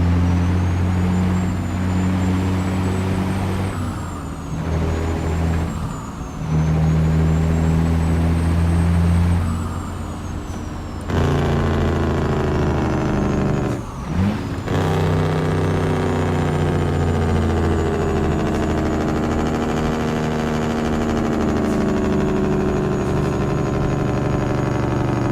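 Simulated heavy truck engine in American Truck Simulator, downshifting while descending a hill: a steady loud drone with pitch shifts and brief dips as gears change, running continuously without speech.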